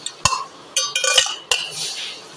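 A spoon stirring sugar into a drink makes a handful of sharp, bright clinks against the cup, coming in uneven bursts with short ringing tails, loud and close.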